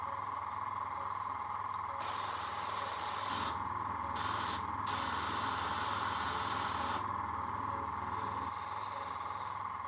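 Airbrush spraying paint onto a Warhammer miniature, a steady airy hiss from the compressed air that swells louder in bursts and eases off between them, close and continuous.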